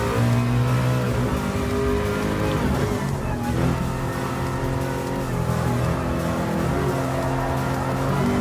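A prototype race car engine drones continuously in Gran Turismo Sport, a loud, steady mechanical roar with shifting pitch as the car accelerates and holds speed throughout.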